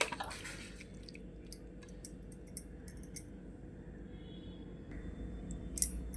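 Minced meat being squeezed and kneaded by hand in a bowl while preparing a meat curry, soft wet squelching with faint scattered clicks, close and quiet, no talk.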